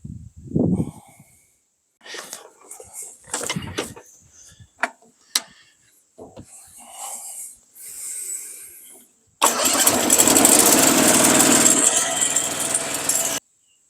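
A small engine on a garden paint sprayer, fitted with a choke and 12-volt ignition, fires up abruptly after a stretch of scattered clicks and handling noises, then runs loud and steady for several seconds before cutting off.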